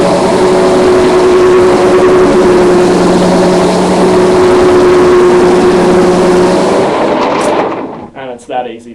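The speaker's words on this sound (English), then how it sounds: "To start the machine, you simply pull the handle towards you, and that'll get the machine going." A floor cleaning machine with spinning brushes runs loud and close in a steady whirring drone with a faint tonal whine, then cuts out near the end, leaving brief fading noises.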